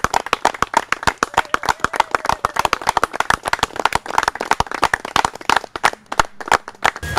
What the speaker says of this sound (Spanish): Todos aplaudimos.